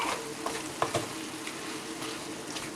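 Chicken sizzles steadily in a hot pan while being stir fried, a utensil scraping and clicking against the pan several times, close and moderately quiet.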